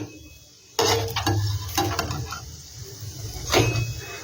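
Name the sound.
semolina snack frying in a little oil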